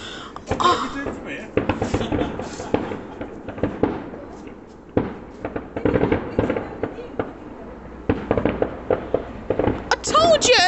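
Consumer fireworks for a 2023 celebration crackle and pop through a long outdoor barrage of loud bursts and rapid crackling near trees, with people talking and exclaiming throughout.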